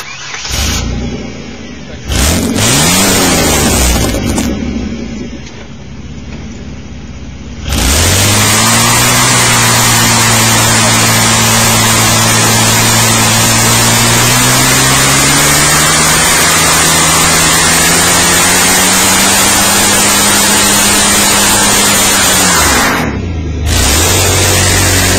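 Chevrolet S-10 pickup truck engine revving hard through a burnout, with short blips at first, then a sustained loud high-rpm roar holding steady for about fifteen seconds before dropping off, voices briefly audible.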